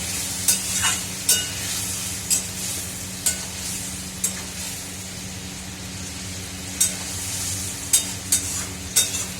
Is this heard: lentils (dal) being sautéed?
yes